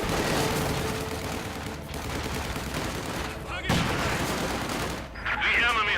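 Gunfire in a Company of Heroes 2 online 1v1 battle: dense rattling bursts of rifle and machine-gun fire with thuds and blasts, loud and continuous, with game voice callouts mixed in.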